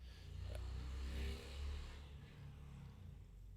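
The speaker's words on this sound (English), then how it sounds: "That was somebody being very noisy in town at a very early hour with their motorcycle." A motorcycle revving in a small town in the early morning, a low engine roar that swells twice before settling into a quieter idle rumble, heard at a moderate distance with no talking.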